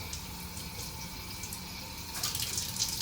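Tap water runs over fresh coriander leaves being washed in a sink, a steady close hiss of flowing water that swells slightly toward the end.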